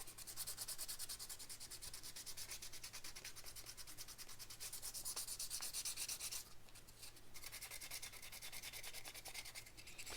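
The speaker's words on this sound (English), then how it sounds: "So you can just sand off some of those edges so you don't jab yourself later on." Steady, continuous sanding of a 3D-printed replica part for an RC10GX89 radio-control car, close and dry-sounding, rubbing without pause for about ten seconds and no speech.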